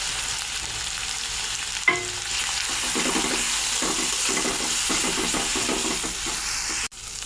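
Spice paste for a fish curry fries steadily in a pan, a dense continuous sizzle with a sharp clatter near the start and faint scraping stirs, cutting off abruptly just before the end.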